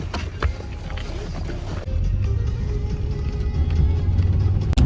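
A car rumbles along fast on a potholed road in Kazakhstan with a continuous low road roar, punctuated by jolts and thumps as it hits bumps; no voices.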